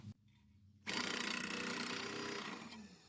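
Ryobi ONE+ 18V 18-gauge offset shears cutting through sheet metal, a loud, steady rapid chatter that starts suddenly after a brief quiet moment and runs without a break to the end.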